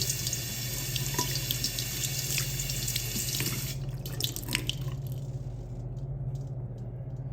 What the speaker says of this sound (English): Just turn on the water, clean it out the best you can.